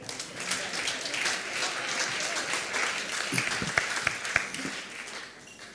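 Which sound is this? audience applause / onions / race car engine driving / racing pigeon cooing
audience applause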